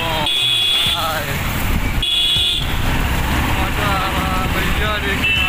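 A car cruising along an expressway gives off a steady road rumble and wind noise inside the cabin, with voices talking over it.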